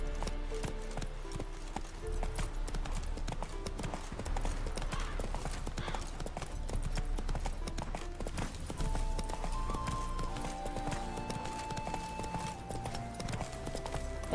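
A horse's hooves clip-clop steadily and continuously in the Witcher 3 Heart of Stone expansion, a fairly even walking rhythm heard alongside soft in-game music tones.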